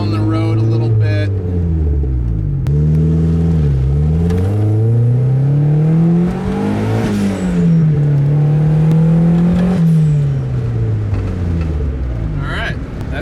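A car with Megasquirt engine management bogs briefly, then revs up and down through the gears while pulling away down a road, loud and close, with its pitch rising and falling and occasional talk over it.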